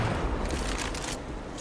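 Grenade blasts and gunfire in a clan tournament video game match, muffled bursts and a quick flurry of shots at moderate level under faint background noise.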